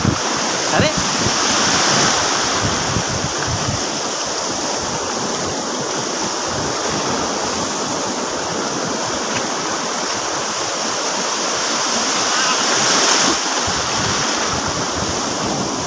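Sea waves breaking at Achara Beach, a loud continuous wash of surf with wind buffeting the microphone, steady throughout with no clear pauses.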